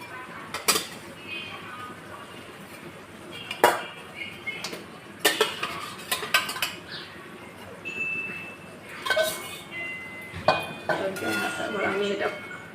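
Catla fish pieces placed one by one into a pan of yogurt masala with mustard-like poppy paste make a series of close metallic clinks and pan knocks, with a soft sizzle underneath and brief gaps between placements.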